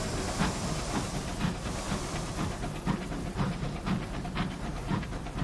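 A steady rumbling locomotive hiss with faint rhythmic chugging pulses rolls on evenly throughout, a continuous train-travel drone from the Sunless Skies game with no voices.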